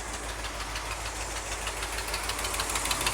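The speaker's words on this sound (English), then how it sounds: "Let's go see the engine running." A 1974 Ford F-350 dually's engine runs steadily at idle with a rough, knocking mechanical clatter, close and continuous with no voices.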